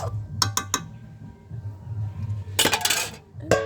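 A metal lid clatters onto a cooking pot of simmering goat head curry, a few sharp metallic clinks and a rattling settle over a low background hum.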